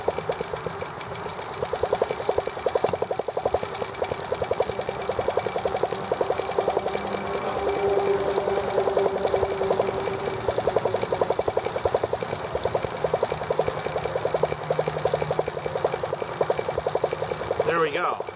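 After a valve job, a T26 engine runs at a steady, rapid mechanical chug with a faint whine, close and continuous for the full stretch at a fairly even level.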